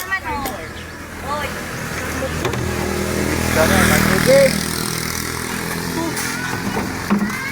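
A motorized tricycle engine runs steadily near a spring by San Ramon, where water gallons are carried. The motor hums continuously throughout while people talk over it.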